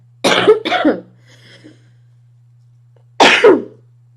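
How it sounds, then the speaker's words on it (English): Two quick harsh coughs close to the mic, a pause with faint murmuring, then one more forceful cough. "This is very rude to like keep coughing"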